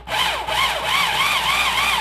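A handheld power sharpener grinds a saw chain, its motor whining loud and close with a wavering pitch that rises and falls as the chain is worked, running continuously without voices.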